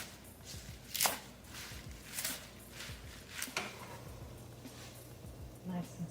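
Kale leaves are roughly chopped by hand on a board, a quiet, steady series of knife taps at an uneven rhythm, with a few louder strokes standing out.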